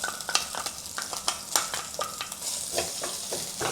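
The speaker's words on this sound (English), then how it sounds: "Then add some oil to saute the aromatics. Ginger." Ginger sautéing in hot oil in a wok for a garlic shrimp stir-fry, a constant bright sizzle broken by repeated quick spatula scrapes and taps, close up, with no talking.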